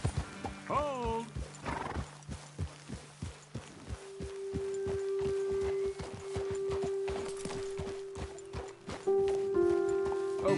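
Horses in the Red Dead Redemption 2 video game clip-clop steadily on foot, hooves ticking under a whinny and a low sustained musical tone, with people talking over them.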